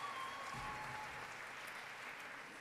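Audience at the 35th Rencontres d'Astaffort, a French song festival in Astaffort, applauding the sound and light crew, a fairly faint, steady wash of clapping heard from a distance.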